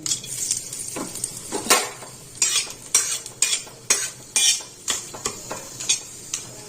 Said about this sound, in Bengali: একটু একটু ভাজা হবে এটা।